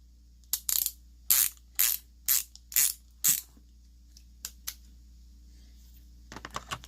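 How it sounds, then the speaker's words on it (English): A worn, partly broken pass-through ratchet wrench from a Harbor Freight Pittsburgh or Stanley set clicks in short bursts, several loud groups of rapid pawl clicks followed by fainter scattered ticks, close up with no talk. "This is the crappy wrench that's broken down a little bit."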